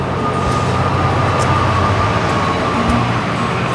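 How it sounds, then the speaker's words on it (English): A train rumbles steadily past near a community beekeeping site, a loud continuous roar with faint metallic squeals, no talk over it. "Train going by."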